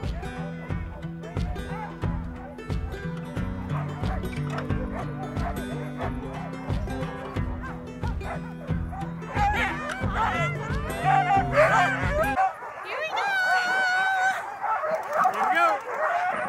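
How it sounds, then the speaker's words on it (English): Excited sled dogs at a kennel in Rovaniemi, Finland bark, yip and whimper in a dense, overlapping chorus, loud and close, with people's voices mixed in. "the dogs are so excited. Like, they know we're here and they are going"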